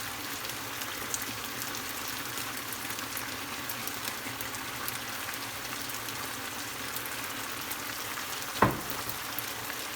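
Beef stir fry with black bean, oyster and soy sauces sizzles steadily in the pan as a constant close crackle, broken once near the end by a sharp clack, with no voices.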